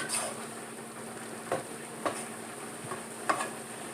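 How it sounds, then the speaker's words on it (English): Chunky garden spaghetti sauce with sautéed vegetables is stirred in a pot, giving a soft bubbling sizzle and a few spaced spoon scrapes against the pot, fairly quiet and close. "So we're just going to give this a good stir, like so."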